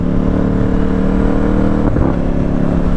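KTM Duke 890 R motorcycle engine runs loud and close with a steady throbbing idle, then a quick blip of the throttle near the end.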